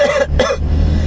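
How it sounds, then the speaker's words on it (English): A single close, loud cough with two quick bursts, over a low rumbling background. "It's kind of just a regular cough."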